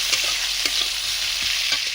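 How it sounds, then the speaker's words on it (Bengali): Chopped onions and garlic fry steadily in a hot pan, a continuous close sizzle broken by occasional scrapes and stirring clicks, with no voices. "ভালো করে পেঁয়াজগুলো লাল লাল করে ভেজে নেব।"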